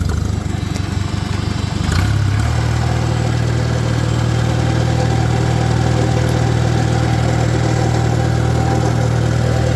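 Engine of a 1949 Farmall Super AV high-clearance tractor running steadily, a loud, close, even mechanical drone with a brief shift in pitch near the start, then a constant hum with no talk.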